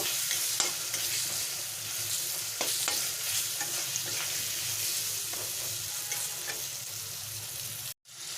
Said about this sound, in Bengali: লবণ স্বাদ মতো লাল লঙ্কার গুঁড়ো দিয়ে আমি এটাকে লো ফ্লেমে ভালো করে আস্তে আস্তে ভেজে নেব